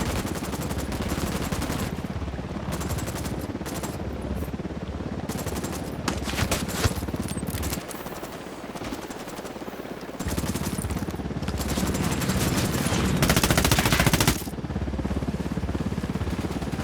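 Sustained gunfire rages in the Ghost Recon Wildlands video game, with dense fusillades and machine-gun bursts running almost continuously, briefly thinning for a moment before the loud shooting swells back.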